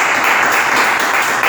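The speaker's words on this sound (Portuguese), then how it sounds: "Dê uma salva de palmas para o Espírito Santo." Congregation applause during a church celebration service, a short steady wash of many hands clapping, loud and close, with no talk over it.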